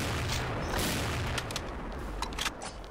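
Gunfire in the shooting game XSHOT as shots hit a wall, a dense, continuous noisy barrage with several sharper cracks standing out toward the end, fairly loud throughout.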